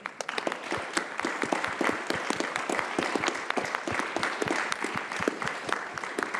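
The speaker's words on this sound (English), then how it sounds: "So let's give a round of applause." An audience at a particle physics event breaks into steady applause, many hands clapping in a dense, close, continuous patter that holds at an even level throughout with no one speaking.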